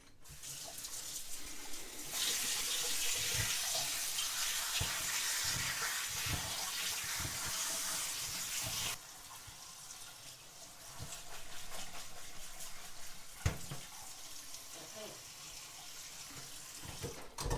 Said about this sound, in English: we're going to rinse it.